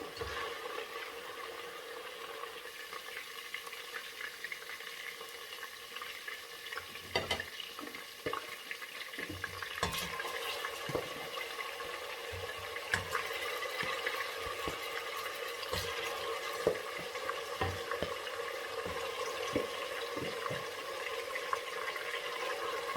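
Pieces of chicken fry in hot oil for a chicken sauce, with a steady close sizzle broken by occasional stirring clatters and scrapes in the pot, continuing without talk.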